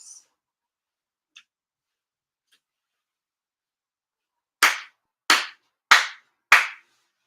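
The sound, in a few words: four ceremonial sincere claps at Japanese year-end ceremony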